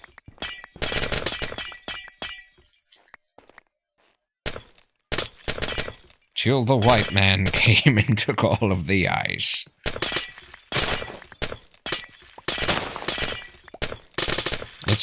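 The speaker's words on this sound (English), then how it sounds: "It's the sound of breaking glass." Minecraft glass blocks shatter again and again in quick bursts of crisp breaking and tinkling, separated by short silences, with someone talking over parts of it.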